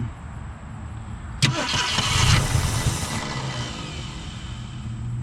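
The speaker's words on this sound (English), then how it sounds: "There's one to idle. That exhaust is for sure plugged up." A Ford Galaxie with a plugged exhaust cranks and catches with a sudden burst, then settles into a steady, close, rough idle that runs on to the end.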